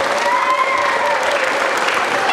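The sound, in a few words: audience applauding the shepherds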